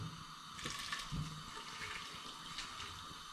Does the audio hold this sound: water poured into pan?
yes